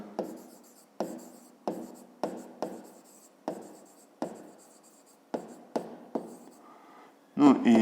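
Pen strokes writing the sides of a triangle on paper during a grade 5 geometry exercise, about ten short scratchy bursts in an irregular rhythm, close and fairly quiet, ending with a louder rustle.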